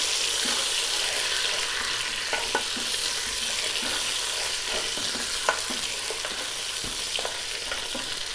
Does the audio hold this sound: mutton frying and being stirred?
yes